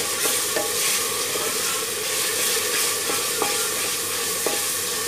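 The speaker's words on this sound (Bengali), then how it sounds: "প্রথমে আদা রসুনের পেস্টটা দিয়ে দিব, দিয়ে নাড়তে হবে।" Ginger garlic paste fries with browned onions in a pan for a beef kosha, a constant loud sizzle with a few scraping clicks as it is stirred, and no talking.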